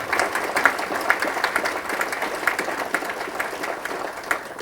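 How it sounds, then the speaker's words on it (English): Audience applause at a regional business legislative breakfast, moderate scattered clapping from a roomful of people, steady for several seconds and slowly thinning. "Let's give them a nice round of applause."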